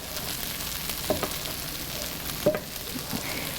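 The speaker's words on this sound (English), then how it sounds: "we're going to keep letting it cook because we want our onions cooked quite thoroughly" Onions fry steadily in a pan over slightly lowered heat, a continuous close sizzle with a couple of brief stirring clicks and no talking.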